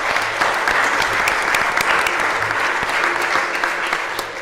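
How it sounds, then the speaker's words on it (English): Rotary club meeting audience in Oakland giving a steady round of applause for nominating committee members, dense continuous clapping from a room of people, fairly close and even throughout. "Let's give them a big round of applause."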